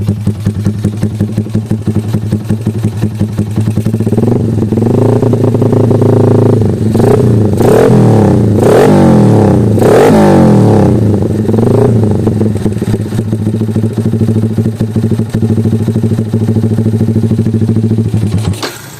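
A Yamaha Jupiter MX motorcycle fitted with a Jhoe aftermarket muffler idles with a loud, throbbing, close exhaust note, then revs up several times mid-way before settling back to idle and cutting off.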